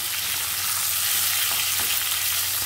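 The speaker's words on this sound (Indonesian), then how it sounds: "Nak goreng hingga masak betul eh." Shrimp and other ingredients for Aceh-style sambal ganja fry in hot oil, giving a steady, dense sizzle with occasional soft stirring scrapes, close and continuous without speech.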